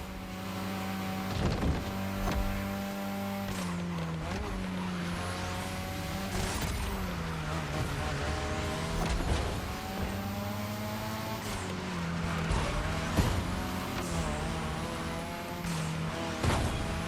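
A drift car engine in The Crew Motorfest racing game revs and whines loudly throughout, with rising and falling pitch sweeps, repeated sharp throttle bursts and tire noise, steady and close with no talking.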